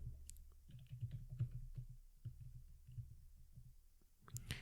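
Soft, close keyboard typing as a new record is entered in MS Access, irregular quiet key clicks in short bursts against a near-silent room.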